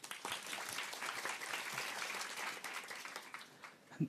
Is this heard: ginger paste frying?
no